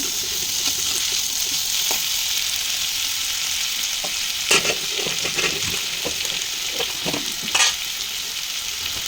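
Onions fry in a pan with ginger garlic paste for a curry, giving a steady bright sizzle while a spoon scrapes and taps through the mix in a few sharp strokes, close and without talk.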